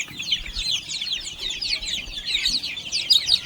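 A flock of young native gavran chicks, about two weeks to a month old, peep and cluck constantly in bright, overlapping chirps. The sound is fairly close and busy, with no voices over it.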